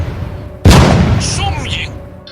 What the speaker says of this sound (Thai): เสียงปืนก็ดังขึ้น ปังปัง